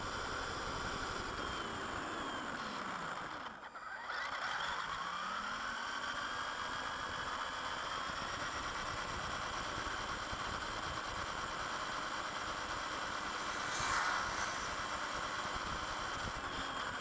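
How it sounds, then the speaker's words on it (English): A WLToys Warrior 4WD 1:10 scale RC car drives along a walking track, its small electric motor giving a steady whine with a brief dip as it changes speed, then a constant buzz. "Cruising off down the walking track."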